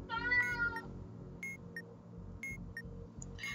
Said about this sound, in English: Ignore my cat if you can hear him.